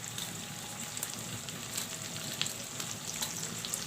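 Okra with small pieces of green chili pepper fries in a pot, giving a steady soft sizzle with light crackles and occasional stirring scrapes, moderately quiet and without voices.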